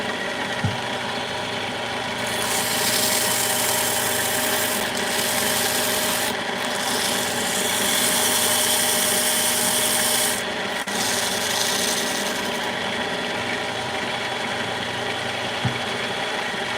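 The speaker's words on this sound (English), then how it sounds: "This is the cheapest sandpaper I've ever gotten." A ring is sanded by hand with cheap sandpaper in a ring-making workshop, producing a continuous, fairly loud rasping rub that swells and eases in long strokes, with a low hum in the background.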